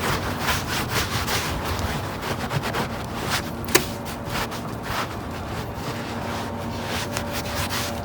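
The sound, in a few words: rubbing a rag to clean an EPDM roof membrane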